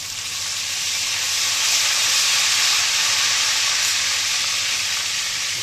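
A spoonful of vinegar hisses and sizzles loudly in a hot pan while Alexandrian-style liver is prepared, a steady broad frying roar that holds throughout.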